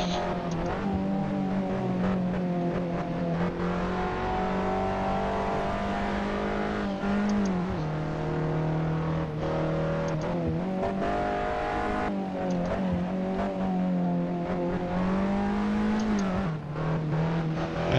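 Race car engines in the driving game Assetto Corsa, modest 125-horsepower cars droning loudly with steady revs, repeated upshifts and dips as the engine note climbs and falls through corners, heard alone.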